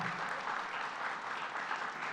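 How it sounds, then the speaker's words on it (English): A crowd at a New York governor's mental health announcement applauds steadily, a dense, even patter of many hands clapping throughout with no voices on top. "Let's give another round of applause to Athena Matos."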